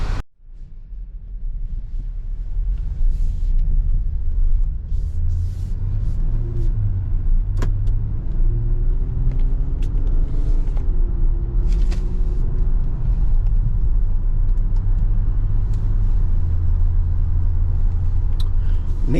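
A 2025 Nissan Pathfinder with a conventional automatic in place of a CVT gives a steady low cabin rumble of road and engine noise while driving, with faint background sounds and an occasional soft click.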